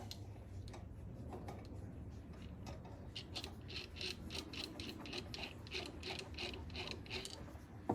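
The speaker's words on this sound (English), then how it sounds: "we're going to take our 3/8 box wrench. We're just going to tighten this down." A 3/8 box wrench tightens a brake line fitting on a Triumph Spitfire, giving a run of faint, quick metallic ticks and ratcheting clicks close by, with no talking.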